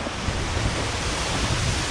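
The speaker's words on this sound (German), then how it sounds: "Ist ein Wasserfall." A waterfall at the Rasti-Land theme park gives off a loud, constant rushing roar of falling water. It sounds close and continuous, with no voices over it.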